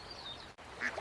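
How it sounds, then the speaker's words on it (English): Ducks on a lake give a couple of short, nasal quacks, near and fairly clear over quiet outdoor ambience, with no talking. "Look, Mom! There are ducks."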